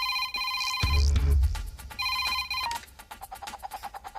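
Telephone ringing in a film scene, repeated electronic ring tones in regular bursts, with a heavy low thud partway through and other sound in the background.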